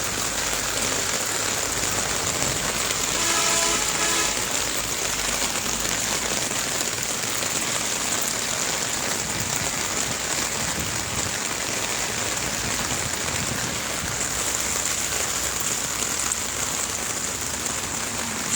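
Heavy rain pours onto a flooded street, a dense, steady hiss of water that stays loud and unbroken throughout.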